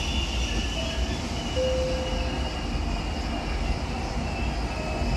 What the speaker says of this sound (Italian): Il treno regionale delle ore 20:01 per Cosenza è in partenza dal binario